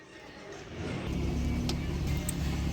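Car engine idling steadily from inside the cabin in the evening in Najafgarh, a low hum that swells slightly and then holds, with faint movement noise and no clear talk.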